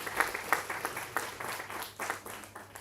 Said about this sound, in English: I would like to request all of you for a big round of applause for all the distinguished members